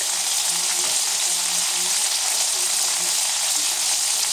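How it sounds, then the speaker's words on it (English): Chicken broccoli bacon alfredo pasta sizzles loudly and steadily in a pan, with a continuous bright frying hiss and soft scraping as it gets stirred, and no talking. "we also want to stir this. periodically, or else the pasta will stick"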